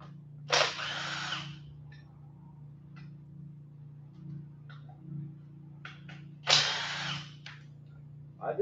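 A power tool zips out cylinder head bolts on a 426 engine being torn down in a shop, two short loud bursts several seconds apart over a steady low hum.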